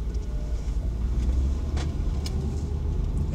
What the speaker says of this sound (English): I'm driving in a car as a test